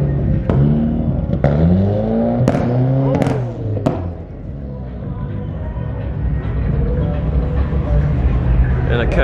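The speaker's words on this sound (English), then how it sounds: "And a casual M4 goes by" A BMW M4 passes at a car meet, its engine surging through several revving, accelerating bursts with sharp pops before fading into background crowd and traffic noise.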